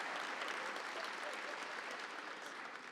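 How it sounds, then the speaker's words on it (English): Sustained audience applause at a public transit agency's annual State of the Agency event, a dense, steady wash of many hands clapping that holds at an even level for about three seconds. "Let's give the Metro Color Guard and Metro employee Stephanie Caparo another round of applause, please."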